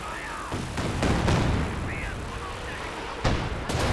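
Artillery barrage in a Company of Heroes 2 match, several sharp impacts and booms at irregular intervals over a rumbling battle bed, with a commentator talking over it.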